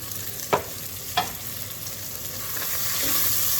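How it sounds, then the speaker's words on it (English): Pork fat fries with a steady, close sizzle in a pan for a soup, while a utensil scrapes and clicks twice against the pan as it is stirred. "Stir that around. That's like some good old pork fat."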